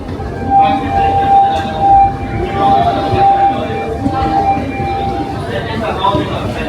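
A train pulls into a station platform in Japan near Tokyo, giving a steady rolling rumble with a sustained metallic squeal running through it, while people talk nearby.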